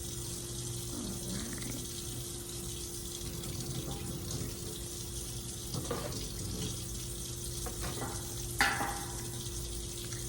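Steady running tap water fills the clip at moderate level, with brief clinks and splashes as hemostats, forceps and a suction tip are rinsed under the stream.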